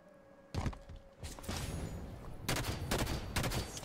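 Rapid gunfire bursts from the Halo 5: Guardians video game, several loud volleys with thuds and brief pauses between them, close and alone.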